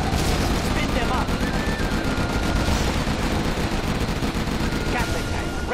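Continuous rapid gunfire from a Gatling tank in Command & Conquer Generals Zero Hour, a loud dense stream of shots with game voices over it.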